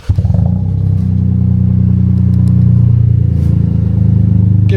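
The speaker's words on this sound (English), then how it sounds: "Alright, first startup." A modified Toyota GR Corolla engine catches on its first startup, a loud near crank and fire that settles into a steady, rough, rumbling idle, with no voices.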